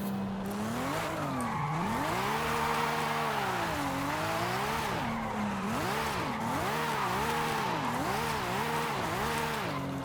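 Car drifting with handbrake in Forza Horizon 5, engine note rising and falling in wavering sweeps as revs swing through the slide, over a steady hiss of tire squeal that runs loud and unbroken throughout.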